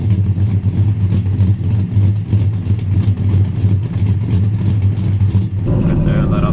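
Lifted Chevrolet Silverado with a 5.3L V8 and TSP 224R cam, a loud, steady, choppy low engine rumble under revs that cuts off near the end, with a voice speaking over it.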